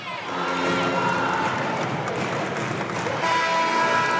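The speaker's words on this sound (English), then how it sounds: "Listen to this crowd inside L.S.T. Johnson Arena" A packed girls' basketball tournament crowd roars inside an arena, a dense continuous wall of cheering and shouting with a commentator's voice riding on top.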